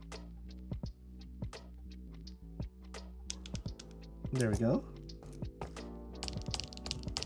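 Mechanical keyboard switches clacking on a freshly built QK Duo split keyboard, a steady run of close, crisp keystrokes with a brief voice speaking over them partway through.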